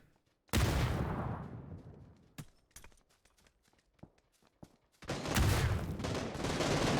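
Grenades exploding in PUBG during a Console League FPP money-round match: a loud blast, a scatter of sharp clicks and small pops, then a second heavy explosion that rumbles on to the end.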